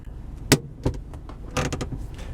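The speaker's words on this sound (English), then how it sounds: "you can also hear the electronic child protective safety locks, which will automatically lock the vehicle once it's put into gear" Electronic child safety door locks on a 2014 Hyundai Accent GLS sedan engage in a series of sharp mechanical clunks and clicks, several quick actuations close by inside the car, then a denser cluster of lock thuds.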